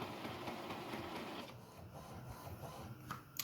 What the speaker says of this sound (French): on va faire un nettoyage des têtes